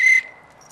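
A short, clear whistle from a Band of Brothers cast member re-creating his Night Patrol episode whistle, one bright sustained note lasting under a quarter second, then fading to quiet room tone.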